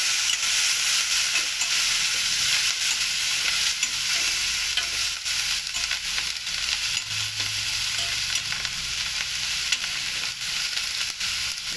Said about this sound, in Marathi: फोडणी मस्त झाली आता आपण यावर वरण घालूया